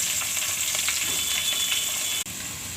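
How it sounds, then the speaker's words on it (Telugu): Onions, green chillies, cumin, whole garam masala and cashews frying in oil for chicken biryani, a steady close sizzle with faint stirring scrapes throughout, briefly cutting out near the end. "ఉల్లిపాయలను చాలా బ్రౌన్గా వేపుకోవాలండి, ఆల్మోస్ట్ ఫ్రై అయిపోవాలి"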